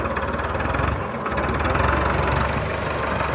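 A Farmtrac 6060 tractor with a 7 ft rotavator runs with a steady, loud, low diesel drone close by. It holds a continuous engine rumble throughout with no voices.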